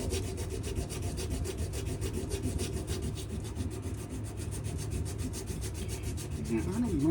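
Steady scraping of abrasive paper worked by hand back and forth along a wooden knife handle, close and continuous with a faint repetitive rhythm.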